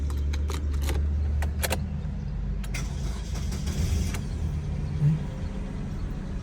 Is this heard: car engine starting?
yes